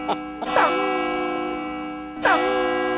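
Bell-like clock chimes strike at night in a comedy sketch: three ringing strokes, two close together near the start and one more after a pause, each with a long sustained tonal ring, fairly loud with no talking.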